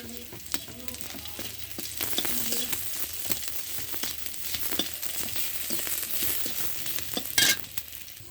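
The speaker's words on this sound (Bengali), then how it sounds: "দেখেন পেঁয়াজ রসুন ভাজা আমার হয়ে গেছে।" Onion and garlic frying in a pan with a little salt, a soft steady sizzle broken by scraping stirring strokes and clicks, one sharp spatter near the end, no talking.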